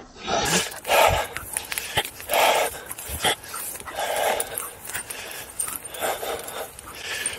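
An English Springer Spaniel puppy on an early-morning country walk pants and gives short whimpers in repeated bursts, close by, with rustling and jangling between them and no talk.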